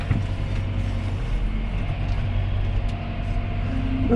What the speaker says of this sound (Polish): I tak ciągnik nie skręca mocno, jakbyśmy sobie tego chcieli, więc muszę się trochę cofnąć.